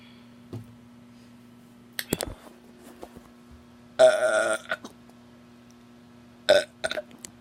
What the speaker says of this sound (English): I gotta get some more burps in here.